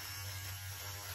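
A Philips Norelco OneBlade 360 electric razor buzzes steadily and close up as it shaves a beard against the grain, one continuous motor hum with no talking.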